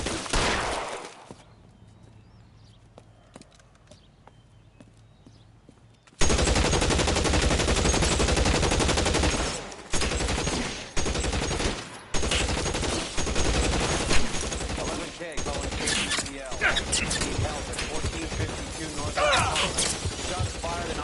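Gunfire in a Los Angeles shootout in L.A. Noire: after a quiet stretch, loud bursts of automatic and rapid gunshots break out and continue in clusters, with brief pauses and a voice talking between volleys.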